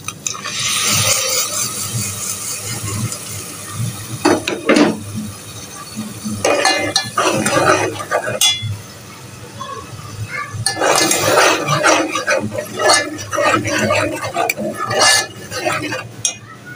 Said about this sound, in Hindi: अब इसमें हम डाल देंगे मसाले